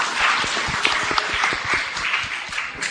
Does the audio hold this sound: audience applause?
yes